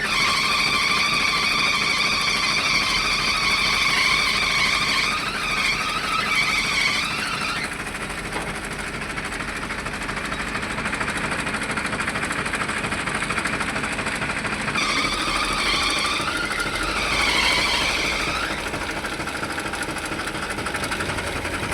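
A tractor engine drives its hydraulic system to tip an Eicher truck, a steady loud mechanical drone with a high whining tone that swells twice as the load builds, running continuously without a break.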